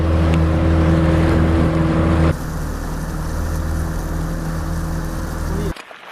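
A motorboat engine drones loudly and steadily, then drops to a lower, rougher hum after about two seconds and cuts out abruptly near the end.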